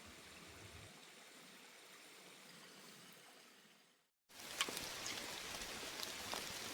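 Rain falling on a hiking trail on a mountain loop, a steady, even hiss of drops that cuts out for a moment, then returns louder and closer, with occasional heavier patters.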